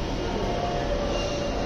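A Dhaka metro rail train gives a steady, close rumble with a thin, sustained high whine running through it, heard alone with no voices.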